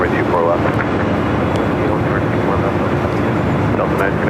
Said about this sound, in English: Next we got that China Airlines A350-900 coming in from Taipei.